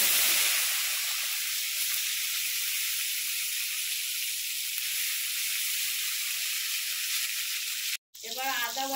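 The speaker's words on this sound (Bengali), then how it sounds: "কড়ার মধ্যে যে তেলটা আছে, আর আমি এতে তেল দেব না। এবার ওর মধ্যে টমেটো কুচি দিয়ে দেব," Chopped tomato sizzles in hot oil in a kadai, a loud bright frying hiss right at the start that settles into a steady sizzle, briefly cutting out near the end.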